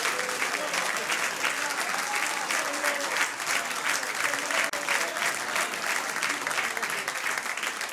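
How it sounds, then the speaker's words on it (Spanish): A church congregation at a Spanish-language Sunday service breaks into sustained, lively applause, a thick and constant clatter of many hands with a voice faintly audible beneath it throughout. "¡Dele un aplauso,"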